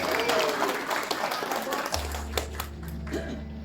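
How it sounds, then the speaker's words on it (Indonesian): Audience applause, steady clapping at moderate volume that continues as a low musical tone enters partway through. "Tepuk tangan dulu buat AFC."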